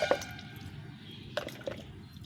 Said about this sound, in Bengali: হালকা একটু হাত দিয়ে জল দিয়ে দিলি